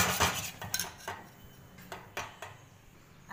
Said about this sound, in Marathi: आता यामध्ये हे मीठ टाकणार आणि याला छान मिक्स करून घेणार